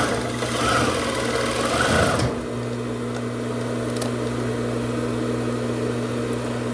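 An electric sewing machine stitches fitness shorts, a steady close mechanical whirr that runs without pause, louder and busier for the first two seconds before settling into an even hum.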